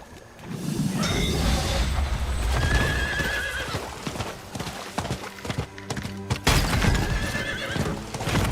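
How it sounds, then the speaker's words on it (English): A horse whinnies loudly several times in Diablo 4 over steady clip-clopping hooves, with a brief crash-like burst midway; no one speaks. "Sounds like, can I ride on the horse?"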